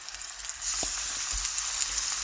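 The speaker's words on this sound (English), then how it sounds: "Y'all can hear a little sizzle" Food sizzles and fries in a hot pan in a home kitchen, a constant bright crackling hiss with a few faint clinks of utensils and no voices.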